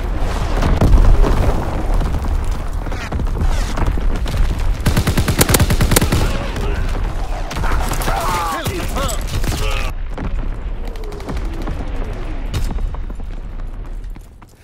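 Artillery strike explosions and rapid gunfire from the WWII shooter game Call of Duty: WWII crash as dense, overlapping booms and bursts of shots, loud and continuous across the whole stretch with a rumbling battlefield background.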